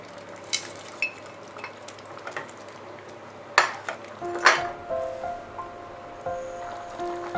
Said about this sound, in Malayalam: വറുത്ത് വെച്ചേക്കണ ചിക്കൻ ചേർക്കാം.